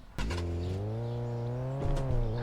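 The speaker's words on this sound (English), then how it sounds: "I do love the sound of the car" Car engine in the Supermarket Simulator video game, a steady droning hum with a low harmonic tone that rises slightly in pitch as the vehicle drives, close and continuous with no talk.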